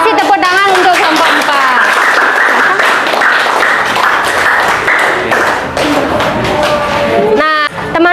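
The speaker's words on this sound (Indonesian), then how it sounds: "kasih tepuk tangan untuk kelompok" Classroom students clap for a group that has just presented, a loud burst of applause mixed with voices talking over it, ending in a short dip.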